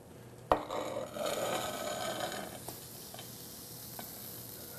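A pizza lands on a very hot pizza stone with a sharp knock, then a soft steady sizzle follows for a couple of seconds before fading, with a few faint ticks after.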